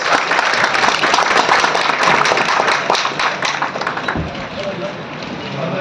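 Standing audience giving thunderous applause to welcome a state minister at a government workshop in Rajasthan, loud dense clapping that holds steady, then eases as a voice begins speaking over it.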